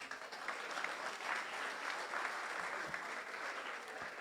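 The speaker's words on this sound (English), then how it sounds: "Please don't stop clapping" Sustained, dense clapping from a large audience at a Ghanaian youth investment and financial literacy event, steady and loud throughout with no voices over it.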